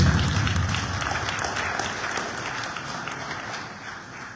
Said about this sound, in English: Shall we give him the round of applause?